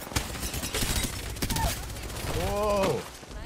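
Rapid automatic gunfire from the Devotion weapon in Apex Legends, a dense fusillade of shots running through most of the clip, with a brief voice-like tone near the end amid the in-game effects.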